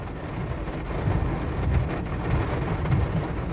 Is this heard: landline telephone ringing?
no